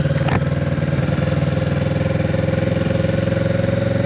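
Motorcycle engine running steadily around 2,000 RPM with only slight throttle as the bike eases off slowly, a close, continuous mid-pitched hum with a steady pulsing beat and no talk.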